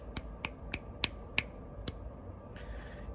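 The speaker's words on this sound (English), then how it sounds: "You could snap your fingers." Finger snaps picked up through a homemade electronic stethoscope: six sharp, evenly spaced clicks ring out alone over a low hum, followed by a faint rustle at the end.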